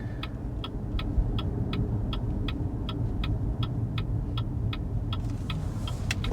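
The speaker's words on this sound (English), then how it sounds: "Indicator noise isn't too bad." Turn indicator of a BYD Seal ticking inside the cabin, a steady, even run of about twenty crisp clicks over a low road and engine rumble while driving.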